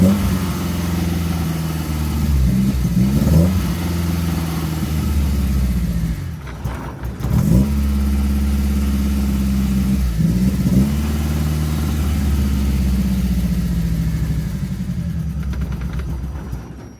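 A 2-litre VW Citi Golf drag car engine revs loud and close, rough and unable to hold an idle, with repeated throttle blips rising and falling and a brief cut around the middle before it roars again.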